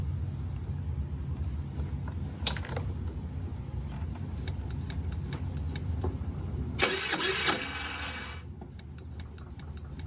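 Starter on a GY6 49cc Chinese scooter engine that struggles as if the battery were weak: scattered clicks and creaks, then a loud, harsh cranking burst of about a second and a half, with no voices.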